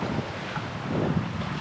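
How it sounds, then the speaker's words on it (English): Strong gusts of wind in the 20s roar across a reefed sailboat offshore near Cape Hatteras, a steady loud buffeting rush against the microphone with water wash beneath and no talk. "It got a little dicey there with the gust that we're getting."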